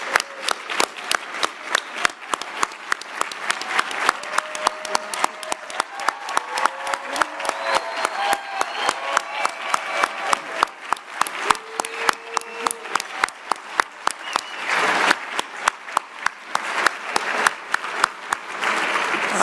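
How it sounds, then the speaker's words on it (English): Recipients at a foundation's annual awards dinner get sustained applause from the audience, dense steady clapping across the whole stretch with a few faint voices and cheers mixed in. "we'd like to give you a round of applause"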